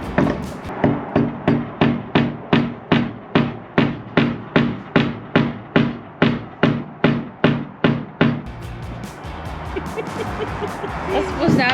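A geode is hammered on a big piece of wood in an abandoned ghost town: about twenty steady, evenly spaced heavy thuds, loud and close, then they stop and a softer background with faint talk follows.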